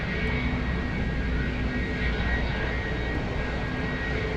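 A Boeing 747 cargo jet flying downwind near the runway at Anchorage, its engine roar a steady, broad, loud rumble with a faint high whine, no voices.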